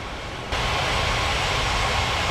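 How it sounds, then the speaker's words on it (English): Airliner jet engines roaring in a steady broadband rush in Unmatched Air Traffic Control, stepping up abruptly to full power and holding loud and constant with no talk. "China Eastern 6259, cleared for takeoff runway 13 right."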